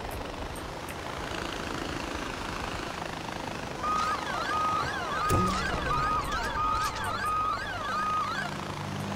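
A helicopter in the video game Far Cry 4, its steady rotor and engine drone running under game noise, growing louder partway through, joined by a sharp impact and electronic warbling tones.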